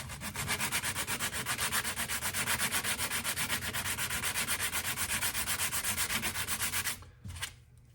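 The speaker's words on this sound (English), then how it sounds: "you can wrap your sandpaper around it and just tape it. And then you've got a nice smooth surface, or you can just hand sand these" Rapid, rhythmic hand sanding of a part with sandpaper for an ICAT biceps assembly, a close, even back-and-forth rasp that stops abruptly near the end.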